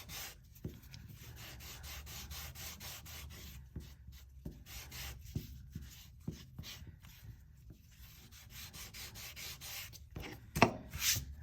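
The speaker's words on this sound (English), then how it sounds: "this is a 800 grit, and rub through all the sides and the corners" An 800-grit sandpaper rubbed over the sides and corners of Horween Dublin leather edges for a pen sleeve, a quiet, close, continuous scratchy scraping in back-and-forth strokes, ending with a brief louder scuff, no talking.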